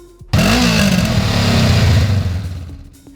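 A Honda CB500X motorcycle engine roars close by, revving up loudly and holding a throaty growl before easing off.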